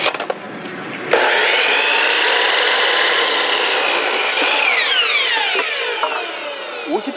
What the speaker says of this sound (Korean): 나무를 지금 재단을 더 해야 되는 게 있어서 50cm 재단을 해야 돼요.